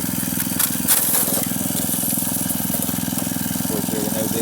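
A small engine idles steadily and continuously with a fast, even pulsing chug, loud and close throughout, with no voices.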